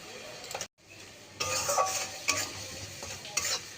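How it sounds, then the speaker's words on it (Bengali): Spice paste of onion paste, chili powder, salt and sugar with kalo jeera frying in oil with a little water in a pan, heard as a soft sizzle broken by scraping stirs and brief clinks, with a short silent gap near the start. "জল দিয়ে মশলাটা ভালোভাবে ভেজে নেব"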